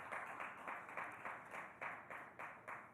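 Soft rhythmic clapping from an awards ceremony audience, a steady pulse of muffled claps repeating about every third of a second, faint and somewhat distant, with no voices over it.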